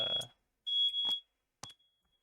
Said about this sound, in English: The beeping is changing pitch. I wonder if it is dying.